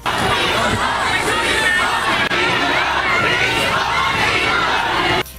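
A crowd of protesters at a rally shouts together, loud, dense and continuous, a sustained roar of many voices with no pause.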